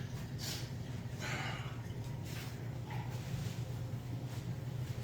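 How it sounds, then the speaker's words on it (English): A dog snorts and snuffles close by in a few short bursts, over a steady background hiss. "I hear my dog saying, "I'm coming for breakfast, Dad.""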